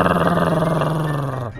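A dog in a Minecraft fight growls in a continuous low, rough rumble, loud and close, sustained for over a second before cutting off abruptly.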